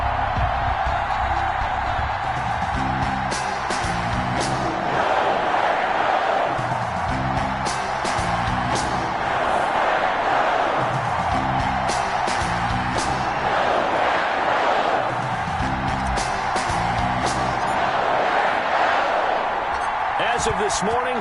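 Stadium crowd noise from an EA Sports football video game, Los Angeles Rams versus Green Bay Packers, a steady dense roar with rhythmic swells of cheering throughout, with a voice talking over it.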